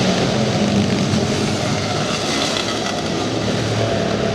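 Kart engines race on an indoor speedway at night, a dense, loud continuous buzzing drone of several motors under throttle that fills the whole stretch without pause.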